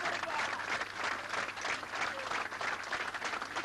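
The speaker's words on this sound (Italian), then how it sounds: "all'uscita della bara accompagnata da un bellissimo applauso" A crowd of mourners applauds outdoors as a coffin is carried out of an Italian funeral, continuous distant clapping at moderate level with faint murmuring.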